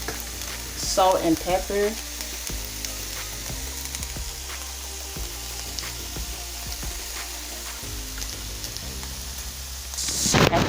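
Minced garlic sizzles with herb potatoes in a skillet, a steady, dense crackle that runs the whole time. A voice speaks briefly over it near the start.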